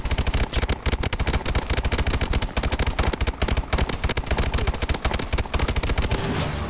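Rapid, continuous automatic gunfire in the Call of Duty Advanced Warfare Exo Last Man Standing mode, loud and close, with dense, evenly spaced shots throughout.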